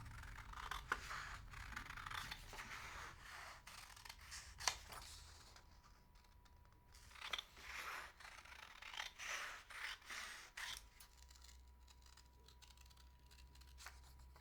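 Scissors snip through a paper reference template for a felt appliqué bookmark pattern, giving close, irregular cuts and rustles in a quiet room with no talking.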